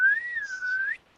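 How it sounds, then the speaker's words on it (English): A Dragon Age character attempts a short whistle, a single wavering pure tone that rises slightly and then dips over about a second before stopping, quiet and alone. "Serena tries to whistle"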